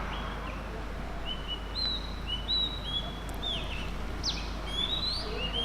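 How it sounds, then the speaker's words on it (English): Birds chirp in the morning near the Emerald Pool and Blue Pool hot springs, giving several short, clear, high tweets and whistles scattered at irregular intervals over a soft steady background hiss. "Nothing like birds chirping to make a morning."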